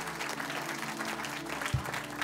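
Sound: congregation hand clap of praise

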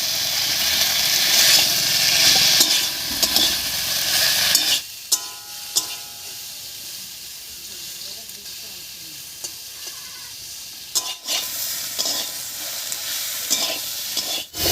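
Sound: stirring tomato into drumsticks and potatoes in a pan

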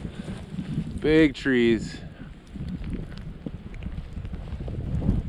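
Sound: wind while powder skiing

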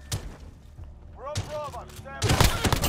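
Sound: gunfire in Call of Duty: Modern Warfare video game

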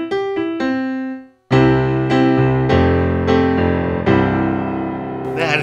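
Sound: Vivo Grand piano sound from Dexibell Vivo SX7 module

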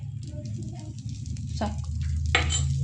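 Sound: set dosa frying in oil on a pan

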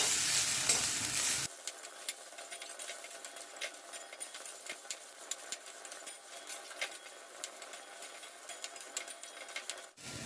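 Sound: green chillies and peanuts roasting in a pan

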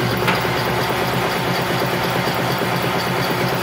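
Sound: boat engine idling in neutral at about 500 RPM

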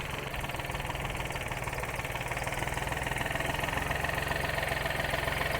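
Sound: tractor engine running idle

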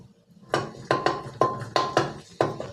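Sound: stir-frying shrimp paste in a pan

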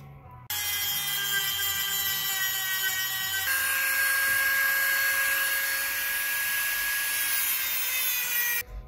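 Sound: Dremel rotary tool grinding jagged edge of aluminum wheel

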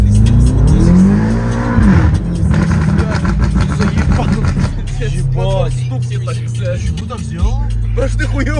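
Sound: BMW M5 F90 accelerating with loud exhaust

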